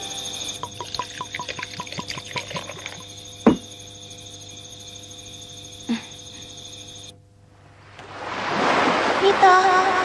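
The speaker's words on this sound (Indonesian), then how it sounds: "Sesuai perkiraan, laut pun mengganas, lalu perahunya terbawa ombak." Rough, stormy sea waves surge in a broad, steady wash that swells loud over the last few seconds, following quieter music-like tones and a couple of sharp knocks.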